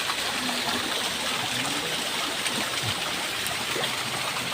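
A fast-flowing stream rushes steadily and evenly, a constant broadband water roar with no breaks and no voices over it.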